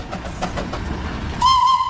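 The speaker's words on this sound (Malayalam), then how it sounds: "കുകി വിളിച്ച് വരുന്ന ഇതാണ് ട്രെയിൻ കേട്ടോ ഇതാണ് ആ സ്റ്റീം എഞ്ചിനായിട്ടുള്ള ട്രെയിൻ" The Darjeeling toy train, a coal-fired steam engine, rumbles and clatters nearby, then a loud, sustained steam whistle blast sounds over it toward the end.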